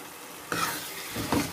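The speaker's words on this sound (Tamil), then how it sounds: "குழம்பு நல்லா கொதிச்சிருச்சு" Prawn curry bubbles in a pot with a faint hiss and a couple of sharper spluttering bursts close by, and no speech.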